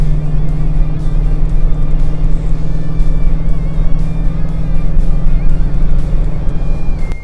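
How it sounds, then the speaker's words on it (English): A Toyota Tundra pickup with the 5.7-litre V8, held in fifth gear, pulls steadily under moderate throttle without a downshift. The deep, even engine drone stays loud and close throughout the clip. "Give it gas without being crazy, and we're accelerating without having to downshift."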